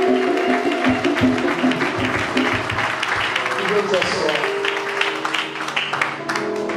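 A church congregation acclaims and applauds the Lord at a ministerial recognition service, with clapping and cheering voices blended into music and singing throughout.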